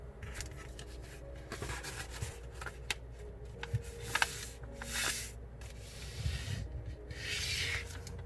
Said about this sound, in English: Fold the paper. Start from this upper corner,